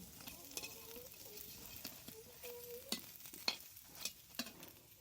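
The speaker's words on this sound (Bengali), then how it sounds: "এখানে বড়া বানানো হচ্ছে।" Fritters (bora) fry in oil on a clay stove, a quiet, faint sizzle with soft stirring scrapes and occasional light clinks throughout.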